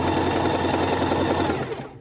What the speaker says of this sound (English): Now we're gonna sew the channel all the way down.